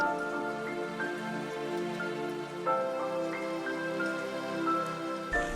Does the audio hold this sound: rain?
yes